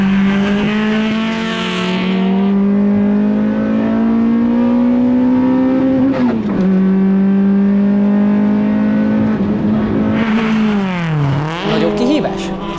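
Honda Integra Type-R with a naturally aspirated engine revs loudly and continuously, pitch climbing steadily through long pulls, with brief dips at gear changes and a sharp rev blip near the end, close and dominant throughout.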